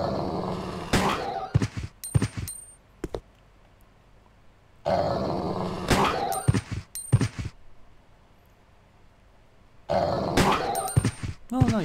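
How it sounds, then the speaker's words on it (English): Zombies in Resident Evil Code Veronica X give guttural growls and grunts in three loud bursts separated by quiet gaps, with thuds and snarls mixed in. "You can shoot them when they're growling."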